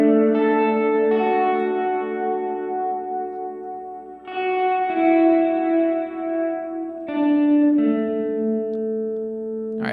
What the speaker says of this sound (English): when I dial in a reverb, I like to do that, boost the mix so you can actually hear the reverb, what it's doing